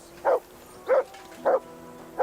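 A dog in Kingdom Come: Deliverance II gives four evenly spaced, moderately loud barks, each short and alone over a faint background hum.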